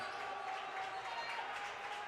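A basketball arena crowd at a Berea College men's game against Belhaven University roars with steady cheering and applause, a dense, continuous wash of noise with no clear breaks.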